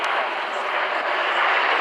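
A formation of white-and-red TS-11 Iskra jet trainers of the Polish Air Force passes overhead during a flyover, a loud, steady broadband jet roar filling the whole moment with no talking.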